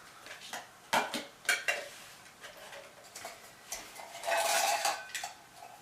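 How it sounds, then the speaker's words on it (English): Light metallic clinks and taps of a small titanium boiling pot and lid being handled, a few sharp knocks followed by a brief scraping rattle, close up. "Small boiling pot, titanium"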